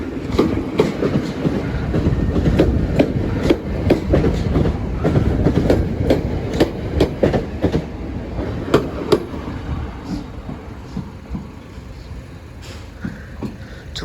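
The Belmond Pullman train rolls past the Deal level crossing, loud and close, its wheels clattering in a rapid clickety-clack over the rail joints before the rumble slowly fades as the carriages move away.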